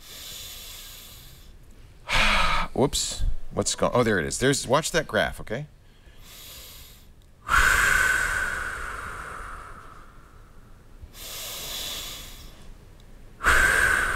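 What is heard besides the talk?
deep breathing measured by breathing app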